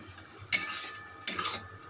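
Two short bursts of scraping and sizzling as spices for a soybean curry are stirred in a pan, separated by a quieter pause.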